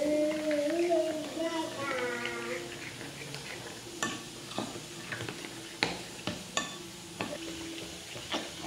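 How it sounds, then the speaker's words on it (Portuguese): Honey cake batter beaten by hand with a spoon in a bowl, giving a series of irregular scraping taps and knocks that grow sharper toward the end, with a voice audible early on. "Agora eu vou bater bem, só que eu vou usar a colher."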